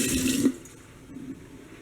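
Tap water gushes briefly into a kitchen sink for about half a second, then cuts off, leaving a quiet room with faint background hiss.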